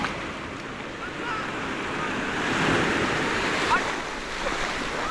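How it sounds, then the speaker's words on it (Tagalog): Large sea waves wash and surge steadily around a fishing boat at sea, a broad continuous roar with wind buffeting the microphone and no clear talk. "Medyo malalaki yung alon dito mga kandang."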